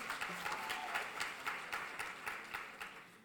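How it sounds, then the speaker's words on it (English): Faint, thinning applause from the audience at a pageant, a college queens and kings competition, heard as a soft, steady patter of clapping at a distance that fades slightly toward the end. "Claps are getting smaller."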